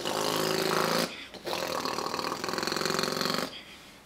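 A boy vocally mimics a motorcycle engine, a buzzing, rasping drone that revs, cuts off briefly, then resumes and runs on for a few seconds before stopping.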